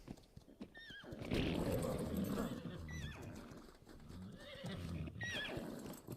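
In the video game Ark: Survival Ascended, several horses neigh and whinny over a rhythmic clip-clop of hooves, with a soft voice murmuring in the background.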